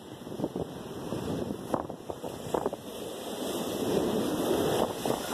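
Large ocean waves surge and crash against an island shore on a cold December day, a continuous roar that builds toward the end, with strong wind buffeting the microphone.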